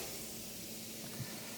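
A steady, hissing sizzle fills the clip, constant and close, as steaks sear on a very hot grill over an open fire.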